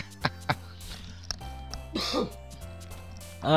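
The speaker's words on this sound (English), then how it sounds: "I keep having to pull away the mic to cough" Close to the microphone, a person clears their throat and coughs in short, sharp bursts, with some soft murmured sounds and faint rustling between them.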